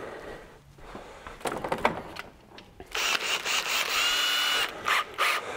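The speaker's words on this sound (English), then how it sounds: "Gonna need a bigger drill bit." Power drill boring into a part for a homemade spray paint can mixer, a close, loud high-pitched whine in bursts with brief pauses between them, after some quieter handling clatter, with no talk.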